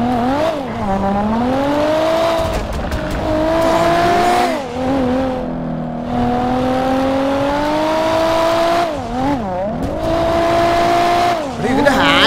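A custom-built Honda Accord with a loud exhaust revs close by, its engine note repeatedly climbing and dropping through several throttle blips, with people talking underneath.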